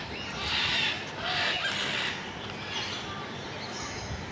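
Macaws call from a distance at Alipore Zoological Garden in Kolkata, with a few harsh squawks rising over a dense hiss of background crowd and ambient noise.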